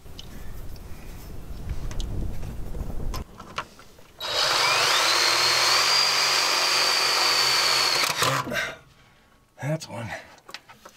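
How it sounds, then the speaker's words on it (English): A power drill drives a screw into a part for about four seconds, whining loud and steady, after a stretch of softer handling noises; short clunks follow as it stops. "So I'm just going to screw this on right now."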